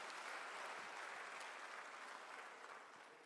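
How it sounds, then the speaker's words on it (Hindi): Applause from an audience honoring farmers at a livestock breed development workshop in Lucknow, steady dense clapping, fairly faint, carrying through the whole short stretch and easing slightly at the end. "उन सभी किसान भाई बहनों के लिए एक बार जोरदार तालियां हो जाएं"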